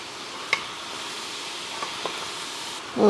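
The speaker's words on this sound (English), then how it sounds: "In goes the meat. I'm going to stir this up." Meat is stirred into drained Louisiana red beans in a pot, a soft wet churning hiss with a few faint scrapes and a louder clatter at the end.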